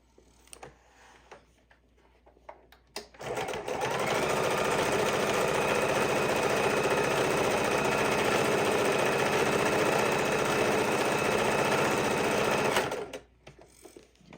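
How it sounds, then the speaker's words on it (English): A sewing machine runs steadily for about ten seconds, stitching a buckle onto a beginner's fidget quilt, loud and close with a brief pause of handling noise before and after. "So let's sew this one on now."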